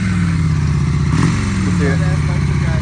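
A Honda Shadow 600 motorcycle engine idles with a steady low rumble throughout, close and loud, while people talk over it.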